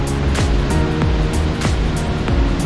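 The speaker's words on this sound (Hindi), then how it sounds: "See how mighty this waterfall is." Sissu waterfall in the Lahaul valley roars from directly below, a loud, dense rush of falling water that stays constant and close, with no voices.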